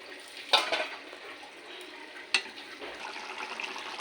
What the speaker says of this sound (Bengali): এবার ভেজে রাখা মাছ আর বেগুনটা ওর মধ্যে দিয়ে দেবো